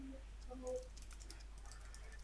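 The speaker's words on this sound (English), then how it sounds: "I'm just typing for 2 seconds" Quick typing on a computer keyboard, a short run of light, irregular key clicks at close range over a low steady hum, with no talking.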